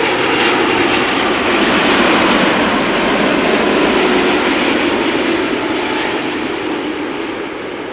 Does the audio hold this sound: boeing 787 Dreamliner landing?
yes